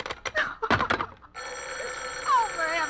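A telephone rings in a radio drama sound effect: a steady, sustained bell that starts partway through and keeps going, loud and close, after a man's brief agitated speech.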